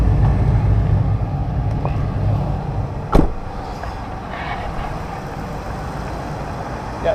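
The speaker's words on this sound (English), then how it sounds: "Since he don't have his foot on the gas, it's just a regular idle." A 2006 Ford Expedition engine idles steadily outdoors with no throttle, a constant low rumble broken by one brief sharp knock near the middle.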